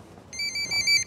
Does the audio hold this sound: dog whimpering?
no